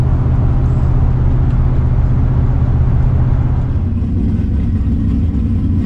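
A turbocharged pickup truck running on pump gas roars at a drag strip as it launches in four-high, a loud, steady engine drone close by that eases slightly toward the end.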